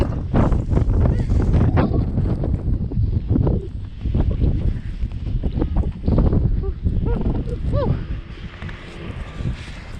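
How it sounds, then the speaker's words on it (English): Strong spring blizzard wind gusts and buffets the microphone in uneven bursts, rumbling heavily with brief lulls, while a person talks briefly over it outdoors. "Ooh, so windy."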